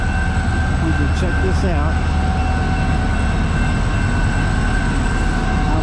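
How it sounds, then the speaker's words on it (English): A train rolls past at Rhodes Ferry Park in Decatur, a steady loud rumble with rail hum and faint squeal throughout, while someone talks over it. "See this train going."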